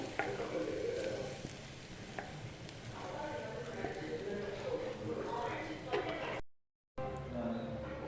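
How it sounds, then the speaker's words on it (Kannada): Freshly ground coconut goes into a hot pan for Kerala-style kayi obbattu filling, stirred with a steady soft scraping and faint sizzle that runs continuously and close, with a brief dropout near the end. "ಈಗ ಒಂದು ಸ್ವಲ್ಪ ಬಾಂಡೆ ಬಿಸಿಯಾಗಿದೆ ಈಗ ಇದು ರುಬ್ಬಿಟ್ಕೊಂಡಿದ್ದಂಥ ತೆಂಗಿನಕಾಯಿ ಹಾಕ್ಕೊಳ್ತಾ ಇದ್ದೀನಿ"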